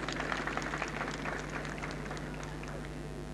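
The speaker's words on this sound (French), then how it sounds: "Applaudissements." Applause from an audience at a school ceremony in Kimbanseke, a soft, steady patter of clapping that carries on evenly at a distance under faint background noise.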